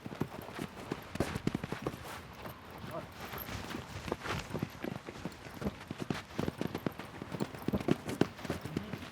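Camargue horse hooves clip-clop in a busy, uneven patter on hard ground, mixed with voices and commotion nearby.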